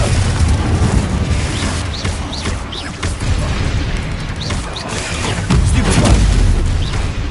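A fiery explosive spell goes off in the Hogwarts video game, a dense continuous roar of booming blasts and crackling bursts, loud and close, with heavy low rumble throughout.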